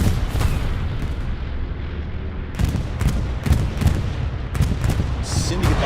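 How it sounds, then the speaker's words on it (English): A bombing run in the Hell Let Loose match on the Carentan map lands as a series of heavy booms and rumbling blasts, close and loud, with sharp bursts recurring through the stretch. "Syndicate bombing run has to be."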